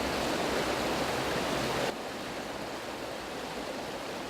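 A river flowing right beside a factory in Catalonia, a dense steady rush of broadband water noise that drops abruptly in level partway through and continues more softly, with no voices.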